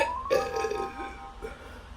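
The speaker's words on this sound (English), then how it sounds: "That's still a burp." A single burp after a drink of sparkling water, rising in pitch and then rolling into a longer throaty belch, followed by a faint quieter tail, heard close up.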